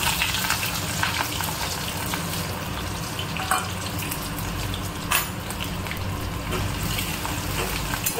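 Already-fried potatoes go into a hot pan and sizzle with a steady, crackling hiss, joined by a few soft stirring knocks, all fairly close and with no talk.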